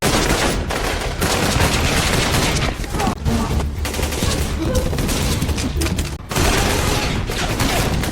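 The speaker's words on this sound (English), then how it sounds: "The sound of gunfire echoed through the building" Rifle gunfire in a film scene inside a building: loud, dense volleys of rapid shots in bursts, with brief gaps, continuing for several seconds.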